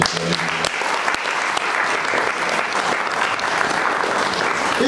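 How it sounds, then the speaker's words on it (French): A church congregation applauds steadily, a dense, continuous wash of clapping at even loudness throughout, with no voices standing out. "On acclame Jésus, on acclame Jésus."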